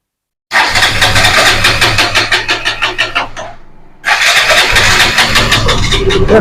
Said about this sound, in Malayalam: ഞാൻ ഈ സാധനം വണ്ടി ജസ്റ്റ് ഒന്ന് സ്റ്റാർട്ട് ചെയ്ത് കാണിച്ചു തരാം